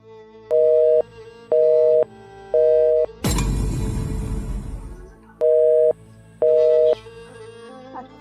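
Telephone busy signal on a call that won't connect: repeated short beeps in a regular on-off pattern, interrupted midway by a burst of noisy rustle, then the beeps resume.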